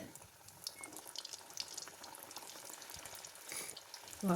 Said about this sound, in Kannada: ಕಂದು ಬಣ್ಣ ಬಂದಮೇಲೆ ಎಣ್ಣೆಯಿಂದ ಎತ್ಕೊತಾ ಬರೋಣ